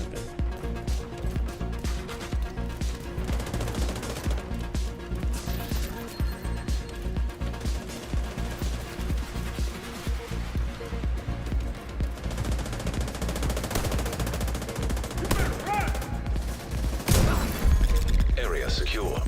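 Automated turret fire in The Division 2 video game, dense repeated gunfire bursts running steadily throughout, loud and near, with in-game voices talking over it.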